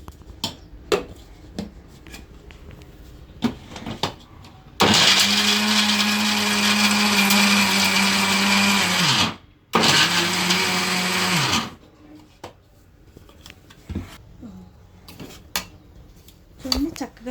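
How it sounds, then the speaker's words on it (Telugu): A kitchen mixer grinder whirs loudly as it grinds drumstick leaves with garlic for a spicy powder, running in two sustained bursts of several seconds with a brief pause between, surrounded by quieter clinks and handling noises. "మిక్సీ పెట్టిన తర్వాత ఇప్పుడు వెల్లుల్లిపాయలు వేసుకోవాలండి"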